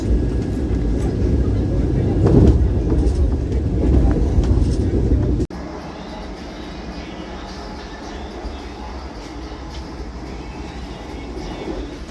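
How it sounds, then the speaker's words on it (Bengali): Steady rumble of the Howrah to Puri Vande Bharat Express rolling along the rails, louder at first, then dropping to a quieter, even clatter. "একদম নির্দিষ্ট সময় ট্রেন চলছে এখন।"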